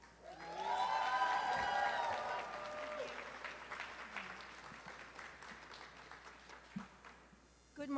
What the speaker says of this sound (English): Please give a big round of applause for Maria Pike.